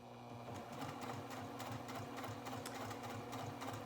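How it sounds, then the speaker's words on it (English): A sewing machine stitches a seam on a fabric coin purse card holder, giving a fast, even mechanical whirring and clatter that runs steadily and close up for a few seconds. "we don't have to back stitch at the beginning and the end, since this is going to go into our seam anyway"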